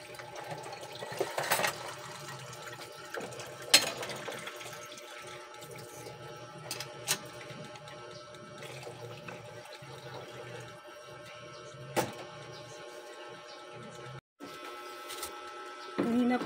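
Water being poured into a cooking pot for mussels in a home kitchen, a faint steady running trickle with occasional clinks and knocks, quiet and close.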